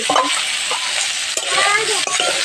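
Loud, busy sizzling of potatoes and pointed gourd frying in a pan, with spatula scrapes and stirring sounds throughout.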